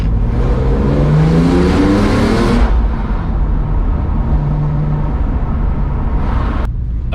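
Up close, a BMW E46 M3 CSL with its SMG gearbox in S6 mode and traction control off pulls away loudly, its engine rising in pitch through one sharp gear change, then holding a steady roar before cutting off.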